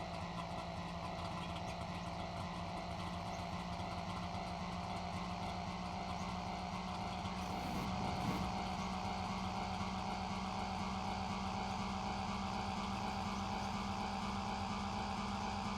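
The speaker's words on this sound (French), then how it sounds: "J'aime pas trop ce bruit de moteur." A steady car engine drone in the game The Long Drive hums continuously at a constant pitch, loud and unchanging, with no voices.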